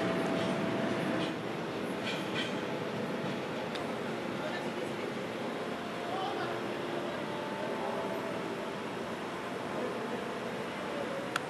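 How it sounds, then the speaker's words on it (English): A steady, low rumble of a train rolling past, continuous for the whole stretch with faint squeaks and clatter, moderately distant. "now that I got you some trains"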